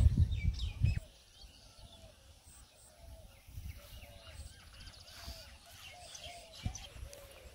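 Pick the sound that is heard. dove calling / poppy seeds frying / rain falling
dove calling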